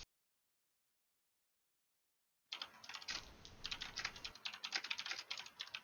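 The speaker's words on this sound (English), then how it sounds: "I can hear the typing noises from one of you." Fast typing on a computer keyboard, dense clattering keystrokes close to the microphone after a stretch of silence, with no voices.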